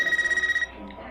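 A landline telephone rings in a trailer scene, a rapid electronic trill pulsing for about half a second and then cutting off, loud and close, followed by a low hum.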